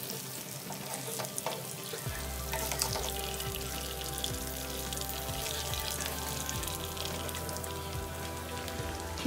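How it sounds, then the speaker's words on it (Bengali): Fish fries in a pan next to a pot of beef and cabbage cooking on another burner, a soft, continuous sizzle and patter with a low steady hum underneath, no voices. "এটাকে মাছটা ভেজে নেব।"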